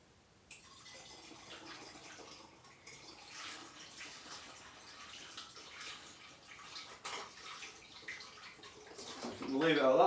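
Apple juice pours in a steady gurgling stream into a home brewing bottle, the liquid sound building and rising in pitch as the bottle fills, close by.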